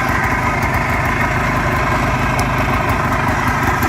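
A 1987 Polaris Trail Boss 4x4 ATV engine idling, a steady close chugging putter, loud and unbroken with no talking.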